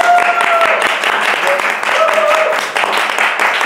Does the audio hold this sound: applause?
yes